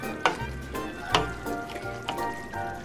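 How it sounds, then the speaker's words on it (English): Sloppy Joe mixture in a pan on low heat gives a steady gentle sizzle and bubbling, punctuated by a few soft clicks of a utensil against the pan, with no one speaking. "I'm gonna let this simmer on low heat for about 20 minutes"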